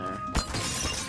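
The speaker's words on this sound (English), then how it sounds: "I broke the glass" Glass shatters in a Garry's Mod horror map, one sudden crash followed by a brief tinkling scatter of shards, fairly loud and alone.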